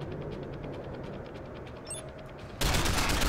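In the video game Deus Ex: Human Revolution, dense rapid gunfire rattles continuously from a minigun, then jumps to a much louder, harsher roar of bursts near the end, with no talking.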